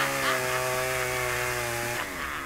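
A chainsaw in the video game Propnight drones with a steady buzzing engine tone whose pitch wavers slightly, sounding somewhat distant, fading a little near the end.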